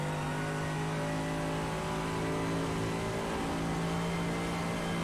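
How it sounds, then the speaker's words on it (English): In a racing video game at the Nurburgring, a race car engine roars at high revs and the pitch climbs sharply as the car crests a rise and goes light, a loud sustained mechanical whine without voices. "The revs suddenly spike as the car pretty much leaves the ground."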